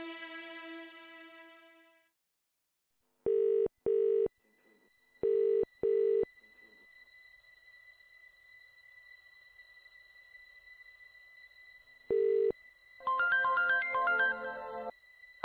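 A phone call rings out from a telephone: an opening tone, then repeated pairs of electronic ringback beeps separated by quiet hum, and a busier melodic tone near the end.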